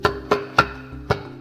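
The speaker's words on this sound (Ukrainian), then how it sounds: "Таз мамонта звучав так." Four hollow knocks on a mammoth pelvis bone, fairly loud and close, each with a brief resonant ring, in a loose uneven rhythm.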